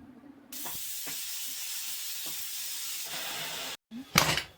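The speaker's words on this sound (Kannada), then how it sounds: "ನಾನು ಕುಕ್ಕರ್ ಮುಚ್ಚಳನ ಮುಚ್ಚಿ ಎರಡು ವಿಷಲ್ ಕೂಗಿಸ್ತೀನಿ" Pressure cooker boiling potatoes lets out a loud, steady hiss of escaping steam for about three seconds, then falls silent before a short, sharp burst of whistling steam.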